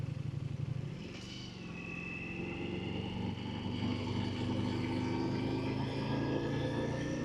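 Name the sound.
superbike motorcycle engine while riding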